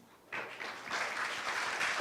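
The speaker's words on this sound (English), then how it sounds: "So let's welcome him with applause." An audience at an international conference on community-based hepatitis C elimination applauds to welcome a speaker. Dense, steady clapping starts suddenly and builds into a full, continuous wash of applause.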